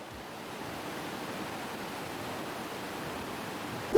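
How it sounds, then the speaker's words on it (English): Water in Minecraft with the Effective mod gives off a soft, continuous rushing wash like gentle surf or a cascade, steady and moderately quiet with nothing else over it. "Just listen to how beautiful the water sounds now."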